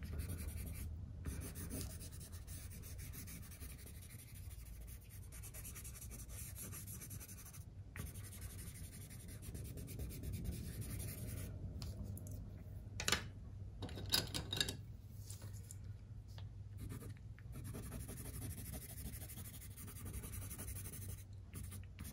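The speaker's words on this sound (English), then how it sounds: "You can see how I get sharp lines on top of my watercolors by using my pencils here." Colored pencils scratch sharp lines over dried watercolor paint on paper, a steady close dry rasp of strokes running throughout with a few brief pauses and some louder scrapes near the end.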